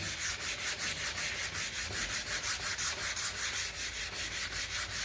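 Steady back-and-forth rubbing of 180-grit sandpaper by hand across mahogany tongue and groove boards, an even rhythmic scratch repeating about four times a second, close and continuous with no talking.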